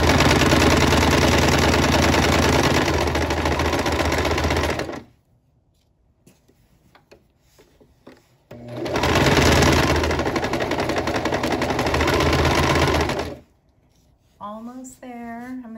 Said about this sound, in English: So I'm just sewing all the way around the edge of my pocket.